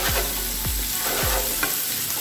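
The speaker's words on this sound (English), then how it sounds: "we're going to deglaze with a little bit of wine" Red wine hits a hot pan in a loud, continuous sizzle while a utensil stirs and scrapes in a few distinct strokes, close and alone without talk, while a duck dish with fig jam sauce is cooked.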